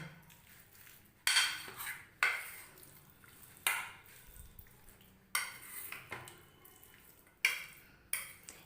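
A spoon knocks against a bowl while fish pieces are tossed with lemon juice, giving a string of sharp clinks and scrapes spaced a second or so apart, close and fairly quiet.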